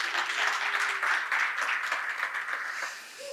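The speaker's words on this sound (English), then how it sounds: "so a big round of applause, please." Audience applause at a Node.js tech conference, a lively spread of clapping from a crowded room that swells, holds, and gradually thins out within a few seconds.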